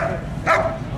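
At a police dog display, a single sharp police dog bark rings out near the middle, fairly close, over a low background hum.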